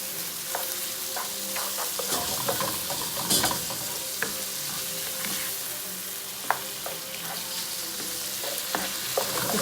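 Squid sautéing in a pot for a black rice seafood paella with cuttlefish ink, a steady loud sizzle with frequent crackling pops and occasional stirring scrapes throughout.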